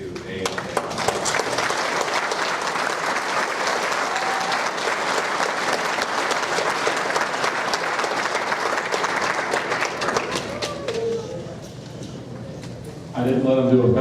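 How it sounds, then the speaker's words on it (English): Graduation audience applauding instructors, a long, dense sustained ovation of many hands that fades slightly near the end before talk resumes. "all the instructors deserve a big round of applause for what they do day in and day out"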